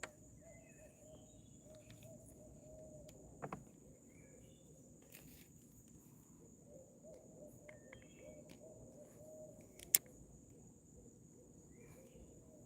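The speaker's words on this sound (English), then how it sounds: "Owls are coming out." Owls hoot faintly at night over a steady chorus of crickets, with a few soft distant calls spread across the stretch and one sharp click near the end. No one speaks.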